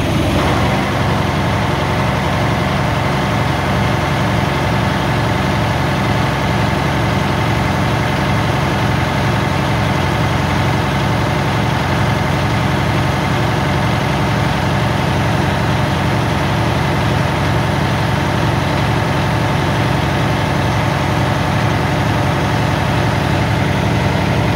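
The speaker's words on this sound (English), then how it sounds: "Can you rev right to the floor?" A Cummins X15 diesel truck engine being checked for fuel restriction and aeration runs loud and steady for a long stretch, a dense, continuous heavy rumble with no clear rise or fall in revs.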